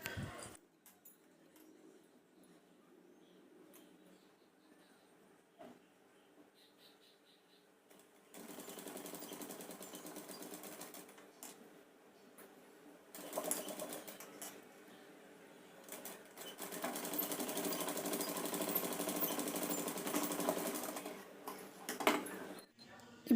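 A sewing machine stitches the neck piece of a Punjabi dress, starting with quiet handling, then running in bursts of fast, rhythmic mechanical clatter that grow longer and louder toward the end.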